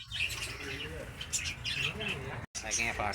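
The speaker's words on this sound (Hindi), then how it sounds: "ईरानी तितर है दोस्तों" Repeated chirping and squawking calls from an Iranian partridge (teetar) kept on a farm, fairly close and clear over a steady background, with a few short bursts in quick succession.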